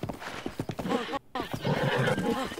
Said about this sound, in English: Calm down, horsey.